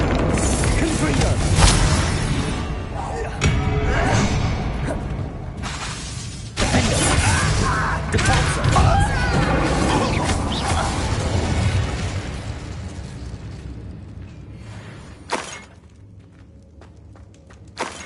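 Fiery Confringo spell blasts from Hogwarts Legacy, a loud stream of crackling bursts and booms with mechanical clanks of combat, dropping quieter near the end.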